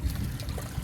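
Water runs off a gold shaker table into a waste bucket, a steady low trickling splash heard close and alone.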